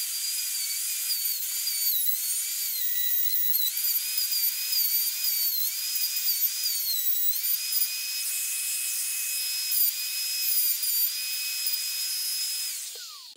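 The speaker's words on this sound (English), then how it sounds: "I finished routing the pockets in all six pieces" A wood router cuts pockets into pieces of natural wood, making a steady, loud high-pitched whine that holds for about thirteen seconds before winding down at the end, with no talking.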